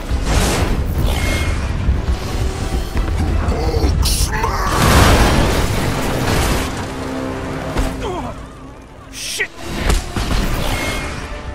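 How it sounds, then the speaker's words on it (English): The Quinjet comes in to land in Marvel's Avengers, its engines roaring and whooshing loudly throughout, with a heavy boom midway and mechanical clunks as it sets down, while a voice speaks over part of it. "Hulk, bringing in the Quinjet for a landing."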